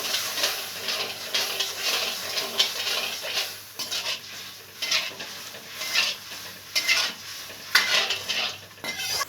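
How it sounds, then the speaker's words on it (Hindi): Sugar syrup bubbles and hisses in a pan while a spoon stirs and scrapes against the metal in uneven bursts, close by. "देखिए मेरे चाशनी उबल रही है अच्छी तरह से"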